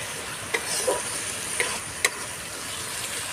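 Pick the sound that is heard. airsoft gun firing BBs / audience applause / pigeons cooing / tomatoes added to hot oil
tomatoes added to hot oil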